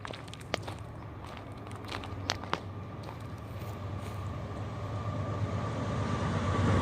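An intermodal freight train passes on CSX rails with a continuous rolling rumble and wheel clatter, steady and moderately distant, with a few sharp clicks and the noise building slightly toward the end.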